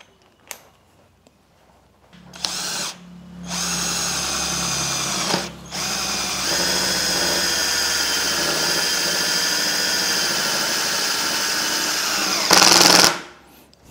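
An INGCO cordless impact driver with a socket bit drives a 4-inch bolt, whirring loudly in two sustained bursts with rapid rattling impacts, separated by brief pauses and ending in a sharp final burst.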